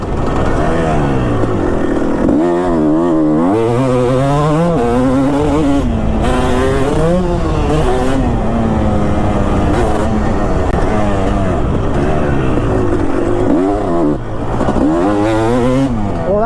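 A 2005 Kawasaki KX250 two-stroke dirt bike rides hard and loud up close, its engine screaming and rising and falling in pitch through repeated throttle blips and shifts without letup.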